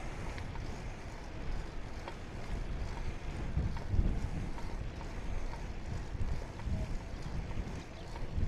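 Steady wind rushes and buffets the microphone while riding a tandem bicycle outdoors in Portugal, a continuous broadband roar with no clear pauses.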